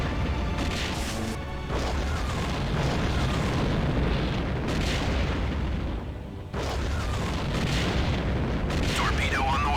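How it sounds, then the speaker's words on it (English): Torpedoes strike a capital ship's bridge in the space combat game Wing Commander Prophecy, setting off a loud, continuous barrage of booming explosions and crashing rumble that dips briefly before surging again. "There's the torpedoes coming in to hit the bridge. Oh. Bridge hit and destroyed."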